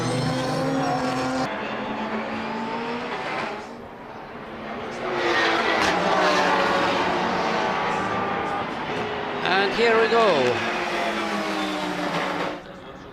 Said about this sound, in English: Now 2 warm-up laps are over and cars are forming a starting grid. Rolling start will be given.